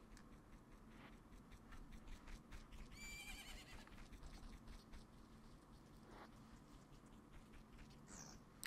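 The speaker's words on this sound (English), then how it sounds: "Isn't that your horse?" A horse neighs faintly in The Legend of Zelda: Majora's Mask, a short whinny set in a steady game soundscape with light ticking, clock-like sounds and no talking.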